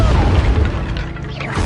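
An Incendio fire spell goes off in Hogwarts Legacy as a short, dense booming blast with a crackling, rumbling tail during combat.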